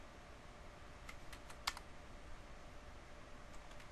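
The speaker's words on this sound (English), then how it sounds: "So we'll type in do show IPv6 route." Keyboard typing as a Cisco router command is entered, a quick run of soft, close key clicks with one sharper tap, then a few more light keystrokes over a quiet background hiss.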